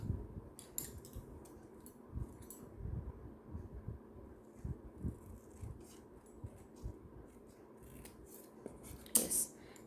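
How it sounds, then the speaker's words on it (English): Scissors cutting paper along a line, a series of soft, close snips and rustles at an irregular pace over a quiet background, with faint room noise. "Now I will cut along this line."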